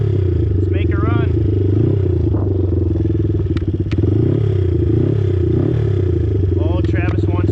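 A Honda 200X three-wheeler with 20-inch tires and stock gearing on a top speed run, its engine buzzing loud and steady up close while the rider talks over it, with rattles and a faint rising whine.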